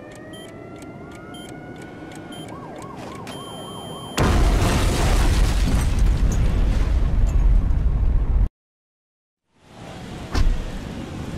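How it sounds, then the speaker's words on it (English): A big explosion from the Twisted Metal 2 video game ending: a sudden loud broadband roar and rumble that fills the sound for about four seconds and cuts to silence, preceded by game music and siren-like tones and followed by a quieter thump. "I'm scared the explosion will hurt."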